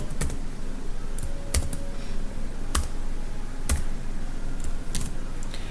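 Code being typed on a computer keyboard, steady quick key clicks with a few sharper, louder strikes spaced through, close and alone with no talking.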